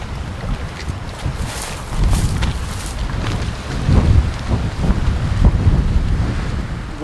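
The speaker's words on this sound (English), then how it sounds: "Wind is wicked out there." Strong gusty wind roars across an open lake in a wilderness park, buffeting the microphone with a steady low rumble that swells in heavy gusts, along with faint lapping water.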